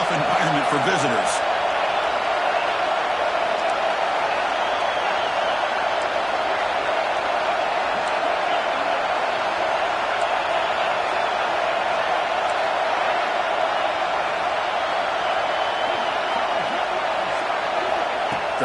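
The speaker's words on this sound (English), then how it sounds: "Listen to the crowd energy here in the early going." Crowd noise fills a football stadium during the early going of a game, a steady, dense roar with a brief burst of clapping at the very start, running unbroken throughout.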